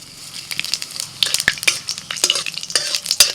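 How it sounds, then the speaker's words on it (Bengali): Whole spices (bay leaf, dried red chilli, cardamom, cinnamon, cloves and cumin seeds) sizzle in hot mustard oil in a wok. Close, loud stirring adds sharp scraping clicks over a steady frying hiss, with no voices. "কড়াইতে সর্ষের তেল দিয়েছি ফোড়নে দিচ্ছি তেজপাতা শুকনো লঙ্কা এলাচ দারচিনি লবঙ্গ গোটা জিরে"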